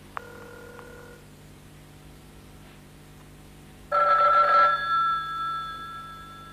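Old landline telephone bell ringing in a late-1970s French thriller scene, one short ring, a pause of a few seconds, then a louder ring that fades.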